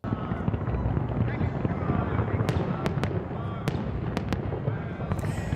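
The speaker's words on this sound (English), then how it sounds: "The legendary Tropicana went out in true Vegas style early this morning with fireworks as the opening act for the implosion." Fireworks open the implosion of the Tropicana casino in Las Vegas, heard as several sharp bangs in the later seconds over a steady roar of crowd and wind noise.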